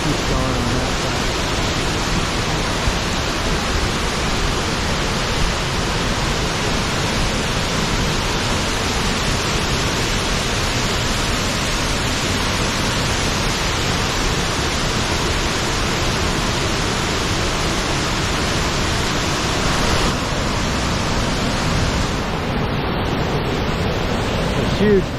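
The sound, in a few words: waterfall in Yosemite Valley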